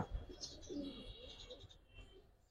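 A Giribaz pigeon, a silver-coloured hen, coos softly at close range, with faint chirps mixed in against a quiet background.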